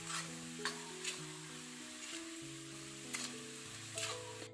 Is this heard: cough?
no